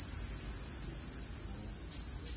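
Crickets kept in breeding bins chirp in a steady, dense high-pitched trill that runs unbroken throughout, with no voices.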